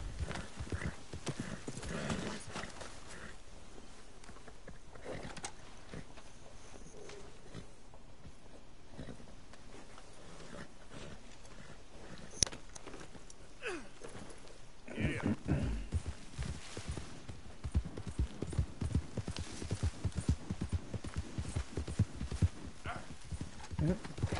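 Horse hooves clip-clopping in Red Dead Redemption 2, a steady rhythmic run of hoofbeats that grows busier and louder in the second half, with occasional faint voices in the game scene.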